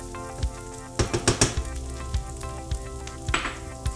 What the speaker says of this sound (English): Garlic, in with the onions, a classic mixture.